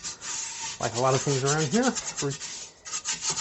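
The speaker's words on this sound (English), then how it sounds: "We're getting some of it out now just with the toilet brush." An old, flattened toilet brush scrubs a cast iron pot in steady, loud rubbing strokes, with someone talking over the scraping.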